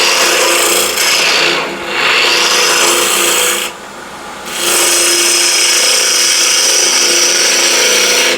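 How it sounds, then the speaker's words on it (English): A spindle gouge cuts a small wooden blank spinning on a lathe, giving a loud, steady, close scraping hiss that runs almost the whole time, broken by two brief dips where the tool lifts off. "I find using spindle gouge on smaller pieces like this much more convenient"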